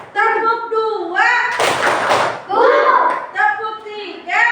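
A class of children chant in unison and clap together in a short rhythmic burst, several quick sharp claps in the middle of loud group chanting, close and lively.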